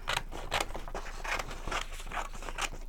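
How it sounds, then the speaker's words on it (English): Scissors cutting out an old paper letter, a close, quiet series of crisp snipping and rasping strokes at a steady uneven rhythm, with no talking. "I'll just cut it out just in case."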